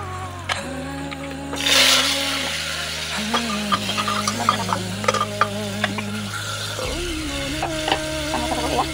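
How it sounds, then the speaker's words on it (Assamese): Chopped tomatoes fry in a pan with onions for rajma chawal, giving a soft sizzle under repeated stirring, scraping and spatula taps at close range, alongside a low steady hum and no talk. "এতিয়া মই বিলাহী ভাজি"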